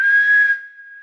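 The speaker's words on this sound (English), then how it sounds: "whistles loudly into the phone" A single loud, sharp whistle blown into a phone, a piercing steady tone held for about half a second, then thinning to a fainter ringing tail.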